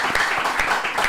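Dense audience applause at a French variety show, steady crowd clapping filling the whole short moment at an even level with no voices on top.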